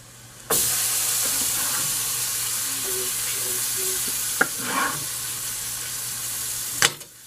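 Tomatoes tossed into a hot pan set off a sudden, loud, steady sizzle that hisses on for several seconds, with a few soft stirring scrapes partway through before it cuts off.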